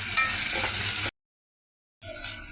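Onion pieces fry in a pan with a loud, dense sizzle close by. It drops out into about a second of full silence and then returns at the same strength.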